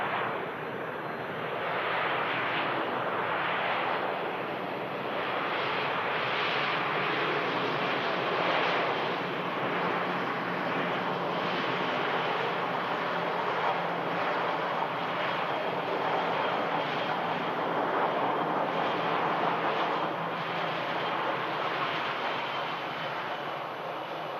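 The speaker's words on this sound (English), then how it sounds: "Awesome landing from the Lufthansa in from Frankfurt." Lufthansa airliner arriving from Frankfurt and landing at Manchester Airport, a steady broadband jet roar holding loud and continuous throughout, with no voices.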